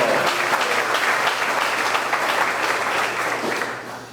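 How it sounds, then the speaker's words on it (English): A crowd applauds a Hall of Fame inductee at the North Hardin ceremony, a loud, dense, close burst of clapping that holds steady and then begins to fade near the end. "Let's give him a big round of applause"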